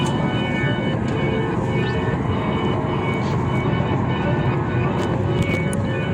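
Steady broadband hum inside an airplane cabin at night before takeoff, heard from the front rows of a nearly empty aircraft, with a constant engine and ventilation drone throughout and faint scattered clicks.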